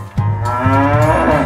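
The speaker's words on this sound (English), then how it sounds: "Cow." A cow moos in a kids' animal sound sequence, one long, loud, close bellow that holds steady and rises slightly at the end, heard alone.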